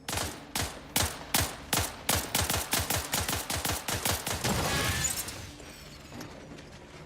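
Companion gunfire in the video game The Outer Worlds 2: a rapid series of sharp shots, spaced at first then quickening into a dense volley, close and loud, trailing off into quieter ambience.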